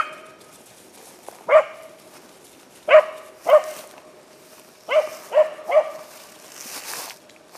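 Hunting dogs bark during a deer drive in a Finnish forest, several sharp barks echoing at moderate distance in irregular bursts separated by quiet pauses.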